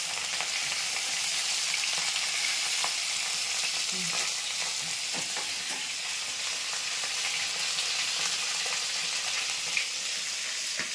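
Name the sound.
fish frying in a wok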